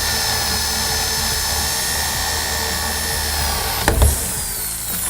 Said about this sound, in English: you wanna drill a hole through the center of the stud